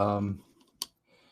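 A single sharp keyboard click follows a brief voice, with quiet room tone around it.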